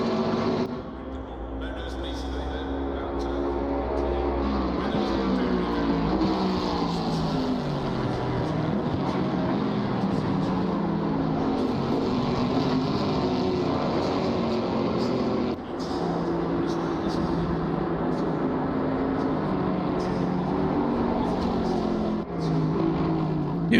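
GT4 race cars at Suzuka, including a Camaro, drone steadily through the whole stretch, with engine notes rising and falling as they pass and shift, under continuous commentary.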